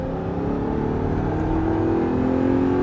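An Audi R8 sports car engine roars steadily and close at full throttle on a track, its pitch climbing slightly as it accelerates hard under load, with no voices.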